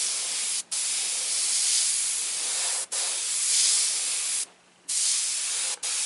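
An airbrush sprays paint onto a T-shirt in long, steady hissing bursts separated by short pauses, close and clear with no talking.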